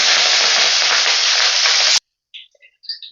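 Mustard seeds, curry leaves, and dried and green chillies frying in hot oil for hotel-style sambar, a loud, close, continuous sizzle that cuts off abruptly, followed by a few faint scattered pops.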